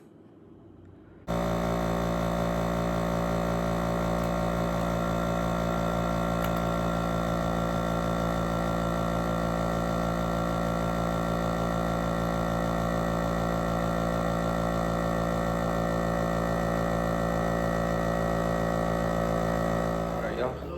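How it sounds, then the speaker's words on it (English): A big air compressor kicks on abruptly after a quiet second and runs steadily for the rest of the time, a dense, continuous mechanical drone with a strong hum, close and unchanging. "We got the big mighty air compressor to clean the rear compressor."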